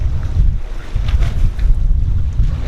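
Ocean and wind aboard a Hatteras yacht near a marina entrance, a loud, close, continuous low rumble with buffeting wind noise on the microphone and swishing water, no voices.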